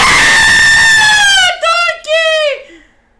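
A person screams loudly in imitation of Shrek, one long strained roar that breaks into two shorter, falling yells before trailing off.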